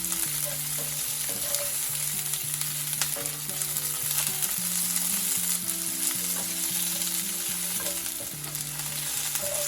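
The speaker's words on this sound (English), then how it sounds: "Once the oil is hot, you want to add the onions that we chopped up earlier. And we're just going to give our onions a nice little saute." Chopped onions sauté in hot oil for a Philly cheesesteak, giving a loud, continuous sizzle from start to finish over a steady low tonal hum.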